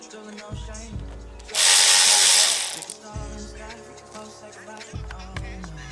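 A power tool whirs and ratchets while removing chain guard bolts on a Surron electric dirt bike, several short close bursts with one long loud zipping run in the middle.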